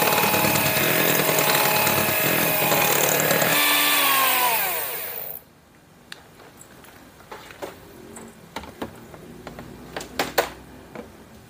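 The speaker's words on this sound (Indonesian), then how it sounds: "ini kita aduk dengan menggunakan mixer kecepatan paling rendah hingga tercampur merata" An electric hand mixer runs on its lowest speed, stirring cake batter for a prune layer cake with powdered milk added. It hums steadily and loudly for about five seconds, then stops, leaving quiet clinks and taps.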